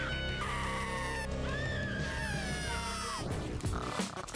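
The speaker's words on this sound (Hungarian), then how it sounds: "a szomszédaik is, amikor meghallják a sikolyát" A girl lets out a high, wavering scream that slides up and down in pitch for about three seconds, fairly close and loud, before breaking into rougher noisy sounds.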